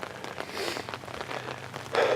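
Steady rain patters across a green home vegetable garden with tomato plants and muddy ground, a dense even hiss of drops that swells slightly toward the end, with no voices.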